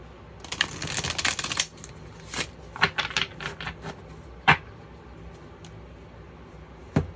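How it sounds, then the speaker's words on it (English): Tarot cards being shuffled by hand, a dense burst of riffling card flutter followed by scattered crisp taps and slaps of cards, close and alone. "I want to shuffle them again."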